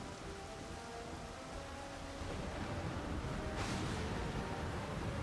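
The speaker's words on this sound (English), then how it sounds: "Storm is here." Steady rain pours in a Final Fantasy XIV storm at sea aboard a tossing ship, with a broad surge of noise swelling midway like distant thunder or a crashing wave, continuous and fairly loud.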